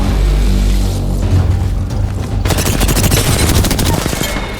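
Rapid automatic gunfire in a video game, loud and close, with a burst of bursts giving way to a long sustained stream of rattling shots and heavy impacts.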